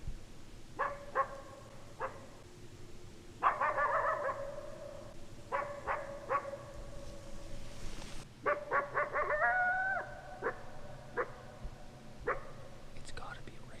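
A dog barks in short clustered bursts from across a lake, echoing faintly over a steady low background hum, in snowy winter woods.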